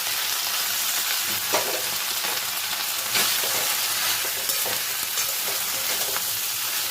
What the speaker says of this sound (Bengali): চিচিংগুলো দিয়ে আমি সব কিছুর সঙ্গে নাড়াচাড়া করে দেব